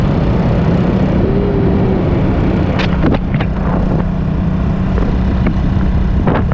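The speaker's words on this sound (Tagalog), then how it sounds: "Ganda na tunog na makina." A loud engine runs continuously with a dense, rumbling drone, occasional rattles and clicks breaking through the steady roar.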